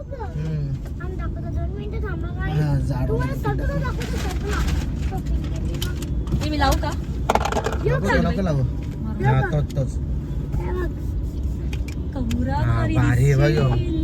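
Road traffic with cars starting to pull away near a shopping mall, a continuous low engine rumble under nearly constant close talking by several people.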